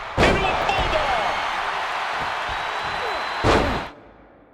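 A bulldog slam lands in a WWE 2K26 wrestling match, two sharp loud impacts about three seconds apart over a steady roaring arena crowd, with commentary voices talking throughout.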